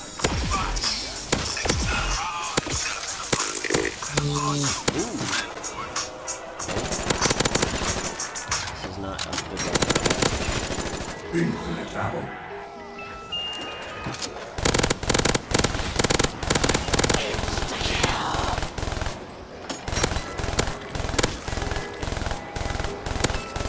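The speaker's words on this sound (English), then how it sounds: "I just like the way this gun sounds" Rapid automatic machine-gun fire in a Call of Duty custom zombies game, dense, loud bursts rattling almost continuously with short breaks, layered over game effects.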